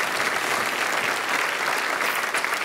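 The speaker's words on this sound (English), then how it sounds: "now you can clap" A church congregation breaks into steady, dense clapping during a sermon, a broad wash of hands filling the sanctuary without talk.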